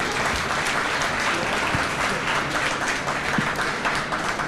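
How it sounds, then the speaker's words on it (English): Sustained audience applause at a county luncheon program, a dense, steady wash of many hands clapping that stays loud and even throughout, close and full. "Round of applause for COSI."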